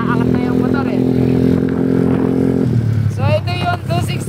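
A 261cc motorcycle at high speed, its engine holding a steady droning tone that drops in pitch partway through, with wind rush and clatter throughout and a voice talking over the second half.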